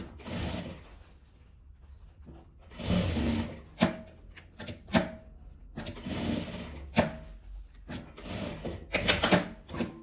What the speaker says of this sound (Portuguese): Aqui eu vou costurar com a margem de um pezinho de máquina a borda toda.